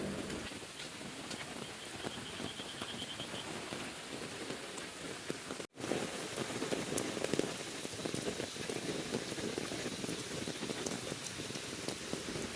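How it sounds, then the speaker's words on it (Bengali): Steady rain falling on a rainy day while someone walks outdoors with an umbrella, a dense continuous patter of drops on surfaces close around, with a brief dropout midway. "দেখেন বৃষ্টির দিনে আমি ছাতা নিয়ে বের হয়ে গেছি"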